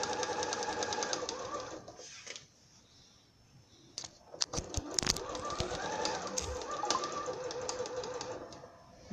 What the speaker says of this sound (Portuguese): Eu vou dar um retrocesso.